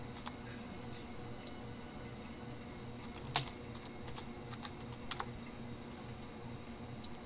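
Keystrokes on a computer keyboard while entering text in embroidery editing software, a faint steady patter of light clicks with one sharper tap partway through, no voices.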